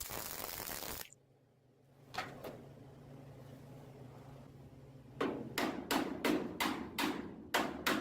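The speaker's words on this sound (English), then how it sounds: "And just tapping that down slightly." Hammer tapping down a car floor pan during welding repairs: a loud grinding-like burst at the start, a couple of isolated metallic taps, then a quick run of about eight sharp close strikes.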